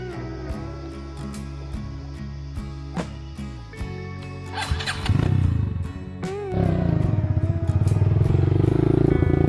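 Trail motorcycle engine revving and building in loudness, a steady harmonic drone that grows louder and rougher toward the end, with some clatter.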